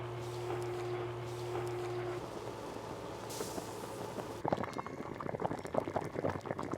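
Beef tripe simmering in a braising liquid of old master stock with dried chilies, Sichuan peppercorns and ginger, a steady bubbling boil that turns louder and busier toward the end, no talking.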